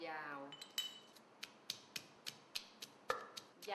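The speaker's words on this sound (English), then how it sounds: "Roughly mix both with the pounding of the pestle." Chilies pounded with a stone pestle in a mortar for som tam, about a dozen sharp, evenly spaced knocks in a steady rhythm, close and fairly loud, with a faint voice at the start.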